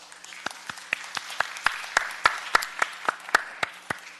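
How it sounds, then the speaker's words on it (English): Sparse applause from a small group at a city council Planning and Land Use Management Committee meeting, a dozen or so distinct claps in an irregular rhythm over a low room hum. "Let's give him a big round of applause."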